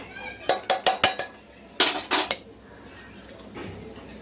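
A utensil scraping and clinking against a pan as whole spices (black peppercorns, cinnamon, two or three cloves) are stirred in hot oil for mutton keema, in two bursts of quick, close metallic knocks, then quiet.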